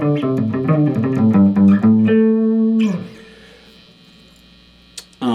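A 1999 Gibson Les Paul Classic played straight into a 1971 Fender Bandmaster Reverb with no compressor, giving a clean, bright run of picked notes that ends on a sustained chord. The chord decays into hum, then a brief pick click follows.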